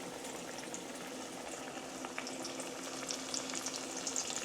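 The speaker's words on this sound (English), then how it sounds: "That nice sizzle, not too hot." Green tomato slices frying in a pan on moderate heat, giving a steady, soft sizzle with small crackles and pops that grow slightly busier toward the end, with no talking.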